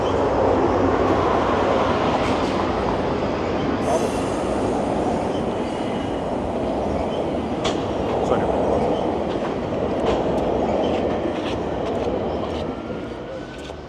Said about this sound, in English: And here's a train heading over the